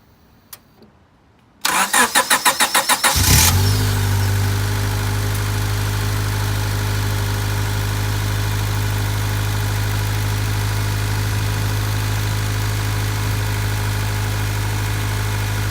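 A 1998 Honda Civic engine cranks briefly with rapid starter pulses, catches loudly, then settles into a steady, smooth idle that holds close and constant with no voices.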